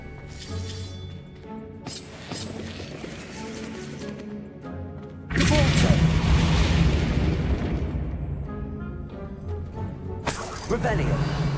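Bombarda blasting spells cast in the Hogwarts Legacy video game, a loud burst of shattering, booming crashes that swells midway and again near the end, layered over game music and effects, with a voice speaking throughout.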